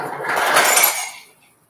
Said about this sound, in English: The proper way to drink coffee is to add 2 ice cubes,